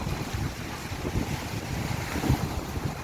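Strong wind roars across the microphone in a steady, buffeting rush in Turkey, with water sloshing nearby and no voices.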